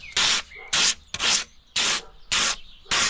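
Sandpaper rubbed by hand over the ragged corner of a worktop, six even rasping strokes about half a second apart with short pauses between, close and fairly loud with no talking.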